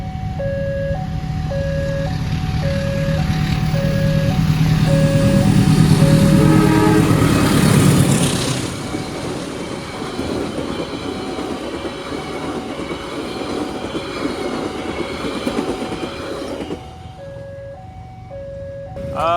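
The Kahuripan passenger train passes close by, a loud rumble and rail clatter, with a sustained horn blast early on before the noise eases off.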